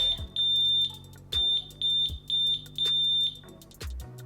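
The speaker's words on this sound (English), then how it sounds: "those are the pitch of the alarms" An L&B Quattro audible altitude alarm for skydiving is being tested, giving a run of shrill, clear electronic beeps. They come singly and in quick clusters over a few seconds, fairly close, with no voices.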